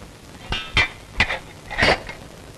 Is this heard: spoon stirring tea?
yes